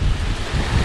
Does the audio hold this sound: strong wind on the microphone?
yes